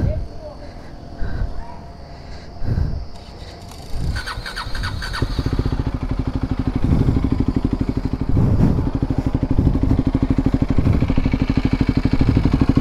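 A KTM motorcycle engine, a Duke 250 or RC 390 at a drag race, starts up and settles into a steady, loud idle with a continuous rhythmic throb, preceded by a few sharp knocks and scattered clatter nearby.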